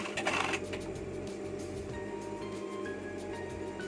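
An overlock sewing machine runs steadily, its knife trimming while it stitches cotton rib knit for a T-shirt neckband, producing a continuous close mechanical whir with fine rapid ticking and no talk.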